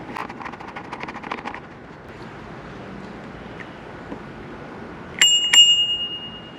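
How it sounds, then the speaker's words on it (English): A bell accessory mounted on the left grip of a 2021 Turboant M10 electric scooter is struck twice near the end, bright metallic dings ringing out clearly after a stretch of soft background noise. "The M10 also comes with a bell accessory that can be installed on the left-hand grip."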